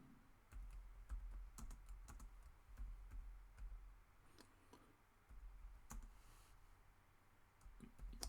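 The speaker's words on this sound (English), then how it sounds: "I'm going to type into this program." Typing on a computer keyboard, with a steady run of close, quick key clicks and occasional sharper taps that continue throughout, heard alone with no talk.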